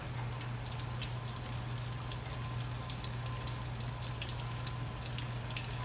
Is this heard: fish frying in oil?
yes